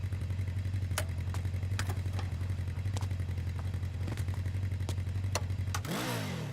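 A motorcycle engine runs steadily up close with a low, rumbling drone and rhythmic revving pulses, then surges and pulls away at the end as the bike rides off.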